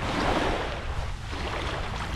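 Sea waves washing against a shore on the Croatian coast, with a continuous broad surf roar and some wind noise, steady and fairly loud throughout with no voices.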